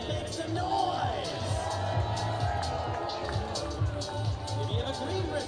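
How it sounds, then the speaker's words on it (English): Baseball crowd at a Missoula Paddleheads versus Oakland Ballers game cheering and shouting, a broad sustained roar of voices and whoops from the stands with scattered yells, steady and loud throughout. "If you have a gold wristband, make some noise."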